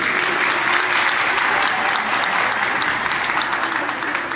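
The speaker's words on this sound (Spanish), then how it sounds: "Un fuerte aplauso para nuestra juez." An audience applauds the judge at a family history writing contest in Mezcala de los Romero, loud, continuous clapping with sharp individual claps standing out near the microphone.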